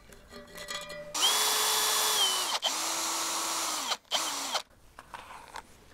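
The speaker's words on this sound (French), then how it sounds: "je vais dévisser ici déjà, et après, j'aurai plus qu'à retirer le socle" A power drill whirs in three bursts while unscrewing the base of a light fixture: a long high run, a second sustained run, then a short final spin, close and loud, with faint clicks before and after.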